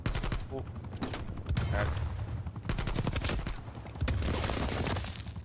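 Rapid automatic gunfire in Call of Duty Black Ops Cold War comes in dense, loud bursts throughout, with a player speaking briefly over the shooting.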